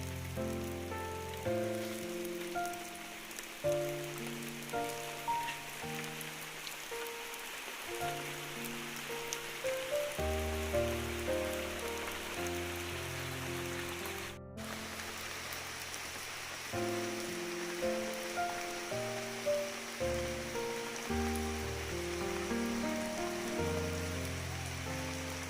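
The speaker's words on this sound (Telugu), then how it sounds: "ఇప్పుడైతే వర్షం పడుతుంది." Rain falls steadily on a forest hut at a tribal farmhouse, a continuous hiss with scattered drip-like taps that lasts throughout, alongside steady tonal sounds.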